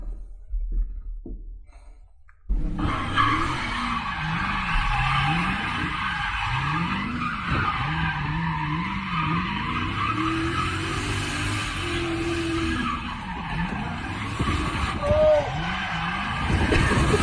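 In the Grand Theft Auto video game, a car's tires squeal and skid in repeated swooping waves over a continuous engine roar, with a brief raised voice partway through.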